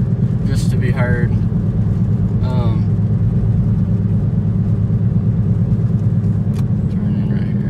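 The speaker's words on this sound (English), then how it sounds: "It's definitely a droning noise." 2010 Toyota Prius while driving, with a loud, constant low droning rumble from the spoiler and road noise filling the cabin, and brief chirps over it early on.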